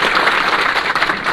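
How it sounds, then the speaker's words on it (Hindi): Children in a class give their teacher a short, dense burst of clapping, loud and close, filling the whole moment. "जी बच्चे एक बार ताली जरूर बजाओ टीचर का"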